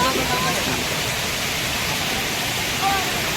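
A waterfall in Purulia seen from high above on a steep drop roars as a steady, broad rushing wash, constant and fairly loud throughout.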